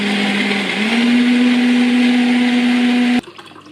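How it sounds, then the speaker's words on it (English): A Nespresso machine brews a drink with a loud, steady mechanical hum that dips briefly, then holds a constant drone before cutting off abruptly, leaving faint room noise. "then just with your Nespresso machine"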